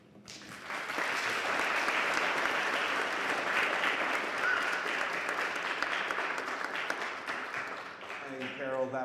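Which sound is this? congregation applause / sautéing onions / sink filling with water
congregation applause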